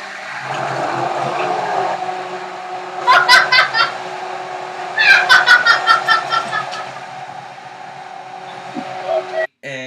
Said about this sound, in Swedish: Mixa lite till för att vänta tills sillen har brutit ner.